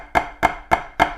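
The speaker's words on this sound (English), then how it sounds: "that little chut, chut, chut sounds kind of like a flam" Tenor drums (quads) struck with a poorly matched double stop, producing four evenly spaced, sharp popping hits with a flam-like doubled attack, close and clear with no talking.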